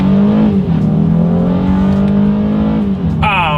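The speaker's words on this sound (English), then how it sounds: "let's see how quickly we can get our new Ridgeline here up to speed" A 2023 Honda Ridgeline pickup truck accelerates hard from a standstill in manual shift mode, its engine note rising steadily and loudly up close, dipping briefly at a gear change.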